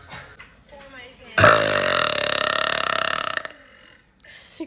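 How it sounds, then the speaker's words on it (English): A loud, long, drawn-out burp with a rattling, croaky texture rises abruptly and fades after about two seconds, close to the microphone, with brief quieter sounds before and after. "God, your burps are gnarly,"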